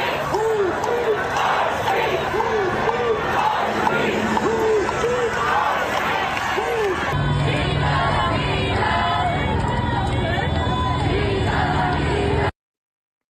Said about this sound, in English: There are pretty big crowds of protesters.